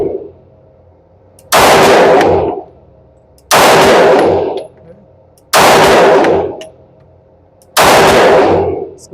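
A Sig Sauer P320 xFive DH3 pistol, ported with a tungsten-infused frame, fires four loud, sharp shots at a target, evenly spaced about two seconds apart, each cracking and then ringing out briefly.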